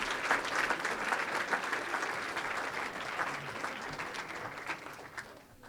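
Sustained applause from a banquet crowd honoring the kitchen staff, steady dense clapping fading slightly toward the end, with faint voices underneath.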